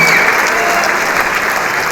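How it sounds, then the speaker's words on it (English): Sustained standing ovation from a large audience at a CREDAI NATCON conference, dense steady clapping filling the hall with no pauses. "the clapping doesn't need to stop"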